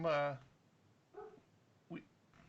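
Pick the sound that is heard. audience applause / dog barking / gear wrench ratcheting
dog barking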